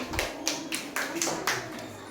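Children applauding in a classroom group presentation, delivered as a few slow, separate rounds of claps roughly every quarter second, fairly close, with murmured voices underneath.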